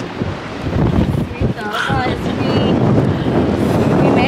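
Strong wind in Melbourne buffets the microphone with a steady roar, while voices talk faintly underneath throughout.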